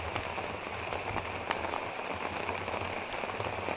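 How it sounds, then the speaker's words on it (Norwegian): Rain falling on a roof overhead, a dense steady patter of drops without pause, close and even throughout, with no voices. "Det regner godt, ass."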